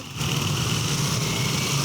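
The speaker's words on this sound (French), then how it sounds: "Lomé aux heures de pointe. Moto, voiture," Rush-hour street traffic in Lomé with motorcycles and cars, heard as a steady, loud engine drone that fills the whole stretch without a break.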